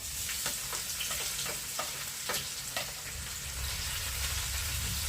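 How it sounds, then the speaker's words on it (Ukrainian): Chopped onion frying in heated sunflower-style cooking oil for red borscht, giving a steady close sizzle with soft stirring clatters and scrapes spread through the clip, no talking. "Нам цибульку потрібно просмажити, щоб вона була гарненько підсмажена."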